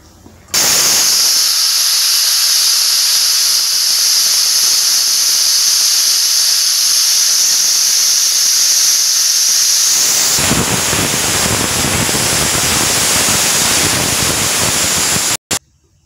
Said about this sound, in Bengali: আমি 3টে সিটি করে নেব